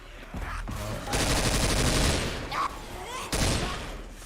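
Rapid bursts of automatic gunfire from an online shooting game, loud dense rattling volleys with short pauses between them, as players talk over the action.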